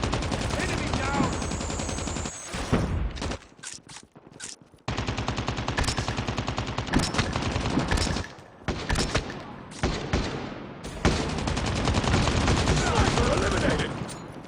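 Sentry gun fire in a shooter video game, dense sustained bursts of rapid automatic gunfire filling most of the stretch with brief gaps, loud and close, mixed with game voice announcements.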